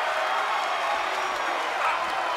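A wrestling arena crowd reacting after a fight ends, a dense, continuous roar of voices filling the space at a steady loud level, with a commentator's voice over it.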